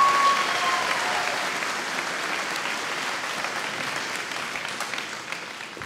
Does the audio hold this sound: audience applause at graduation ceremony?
yes